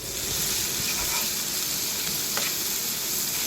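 Masala pav mixture cooking in a pan, a constant loud sizzle with occasional soft stirring scrapes; no voices.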